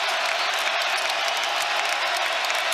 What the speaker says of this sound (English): The Sooner crowd back into it.